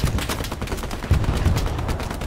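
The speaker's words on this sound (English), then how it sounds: "That sounds like a mounted machine gun" Mounted machine gun fire in a military shooter match rattles in continuous rapid bursts, dense and fairly loud, with a heavier cluster of thumps near the middle and no talking over it.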